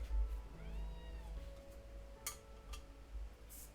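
A cat meows in drawn-out, rising and falling cries over a low hum, with a few clinks in the room during a Final Fantasy XVI gaming session.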